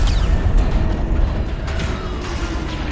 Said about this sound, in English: That explosion came from the propulsion deck.